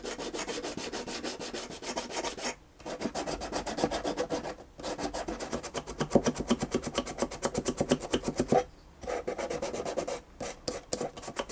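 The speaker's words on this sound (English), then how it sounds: "And use the sandpaper again to make it a bit lighter." Sandpaper rubbing over varnished violin wood, close and steady with rhythmic back-and-forth strokes broken by a few brief pauses.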